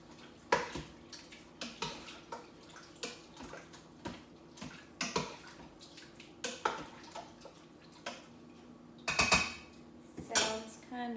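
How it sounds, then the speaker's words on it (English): Spoon scraping and clinking around the metal insert of an Instant Pot while stirring creamy chicken soup, a series of short, uneven knocks and swishes close by, with a soft hum underneath. "We're gonna give that a stir."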